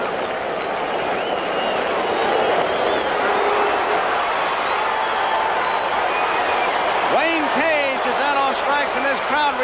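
Baseball stadium crowd roaring after a strikeout, a loud sustained swell of cheering and applause with shouts and whistles rising near the end.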